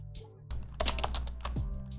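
Typing on an HHKB keyboard with Topre switches: a quick run of muffled keystrokes, close and fairly loud, with a low hum underneath.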